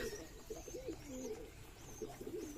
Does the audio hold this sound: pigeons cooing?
yes